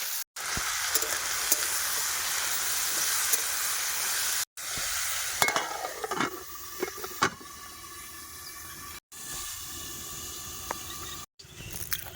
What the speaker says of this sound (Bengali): আর এই যে মূলো আর আলু এই তেলের মধ্যে দিয়ে দেবো একেবারে ভেজে দেবো